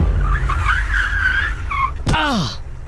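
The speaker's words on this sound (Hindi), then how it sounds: "तभी गाड़ी में जोर का ब्रेक लगा" A car braking hard with tyres skidding and screeching, a rising squeal ending in a sharp burst, heard as a sound effect over steady background noise within a Hindi horror narration.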